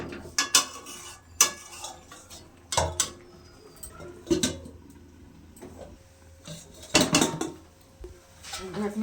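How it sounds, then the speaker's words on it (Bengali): A metal pot lid handled over a simmering cauliflower and katla fish head curry, with several sharp clinks and clatters separated by quiet pauses. "ঢাকনাটা খুলে দিলাম"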